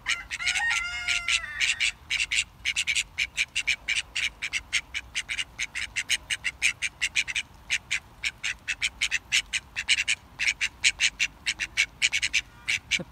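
Ducks on a farm call in a long rapid series of loud, close quacks and squawks, fast rhythmic bursts with barely a pause, after a brief opening honk.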